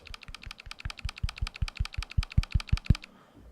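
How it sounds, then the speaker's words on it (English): Rapid, evenly spaced retro keyboard sound-effect clicks on a Galaxy S23 Ultra, with a clacky vintage tone, tap along for about three seconds and then stop. "it's gonna make a retro keyboard sound effect"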